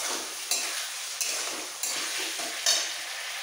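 Spice masala sautéing in a pan for a jackfruit curry, a steady bright sizzle with a spatula scraping and knocking against the pan about four times.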